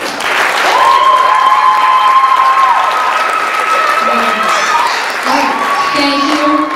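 Loud, sustained applause with cheering from a crowd after a dads' belly dancing performance at a 2018 spring dance showcase, steady throughout with voices mixed in.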